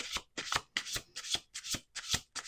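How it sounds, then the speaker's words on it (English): Oracle cards being shuffled on a table in a run of crisp riffling bursts with short gaps between them, close and clear, with no talking. "Let's do one more shuffle."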